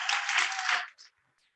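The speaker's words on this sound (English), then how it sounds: "let's give a final round of applause to our 2022 Employee of the Year recipients" Dense applause from an audience at a school board meeting honouring employee of the year recipients, fairly close and steady, then tapering off into a few last claps and silence.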